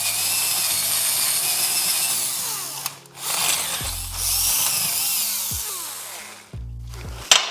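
A power drill bores out a rivet on a BMW E38 electric steering column, whining steadily with brief pauses and load changes as the bit bites into the metal, loud and close with no talk.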